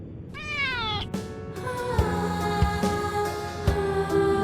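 A cat meows repeatedly in the video game Only Way is Down, with drawn-out cries close and clear over a steady musical background.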